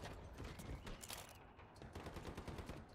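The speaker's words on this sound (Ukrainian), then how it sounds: "Зліва стріляю чую" Gunfire in the Call of Duty video game comes as rapid bursts of shots in a game match, fairly faint and distant, with quick repeated cracks spread across the moment and no talk over it.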